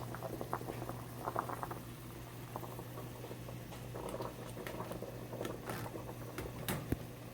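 Bagels boil in a pot of water with a steady, soft bubbling and patter, plus a low constant hum underneath; no voices.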